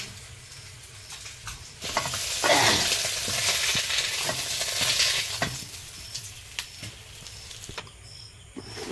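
Crushed garlic frying in oil in a home kitchen in the Sundarbans, with a close sizzle that swells loudly midway and repeated scraping strokes of a spatula stirring the pan, no voices.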